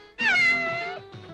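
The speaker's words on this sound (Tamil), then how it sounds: "பூனை குறுக்க போகுது" A cat gives one long, loud, close meow with a rising then falling pitch, followed by a short fainter second cry after a brief pause.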